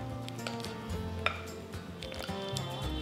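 Mashed potatoes are stirred into masala in a pan for a potato fry, giving soft squishy scraping and light utensil knocks against the metal, steady and close, over a faint background hum.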